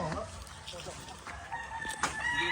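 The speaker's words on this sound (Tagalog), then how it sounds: "Ang daming manok dito." A rooster crows nearby among clucking chickens, with faint voices and outdoor background noise.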